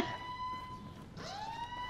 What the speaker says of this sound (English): The alarm just set it off.